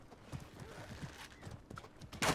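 Horse hooves in the medieval combat game Mordhau, a quick rhythmic clip-clop of galloping steps at moderate distance, with a brief whinny-like burst near the end and some voice underneath.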